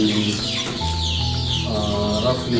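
Around fifteen hens on a small local poultry farm cluck steadily and loudly throughout, with overlapping calls and a busy farmyard chorus close by.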